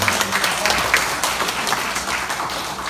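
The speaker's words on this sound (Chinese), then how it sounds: "我们再次的掌声" Audience applause at a county legislator's public briefing in Nangan, Matsu, a dense steady wash of many hands clapping together for the full stretch, fairly loud and close, with no clear talk over it.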